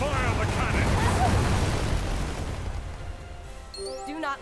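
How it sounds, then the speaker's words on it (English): Deep, rumbling booms of naval ship cannon fire in the game Uncharted Waters Origin roll heavily through the opening seconds, then fade into a quieter stretch with a few thin tonal effects. "Fire the cannon!"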